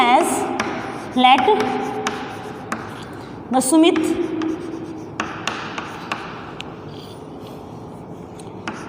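Chalk or marker writing on a classroom board for a linear equations lesson, with short scratchy strokes and taps scattered between stretches of a teacher speaking.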